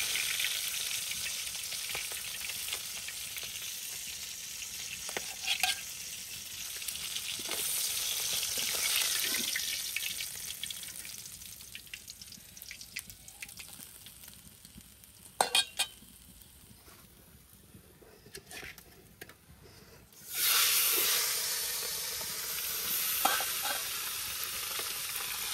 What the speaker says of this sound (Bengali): মাছগুলো ভেজে মশলাটা ভুনা করে নিব, এই জন্য পেঁয়াজটা ভেজে নিচ্ছি।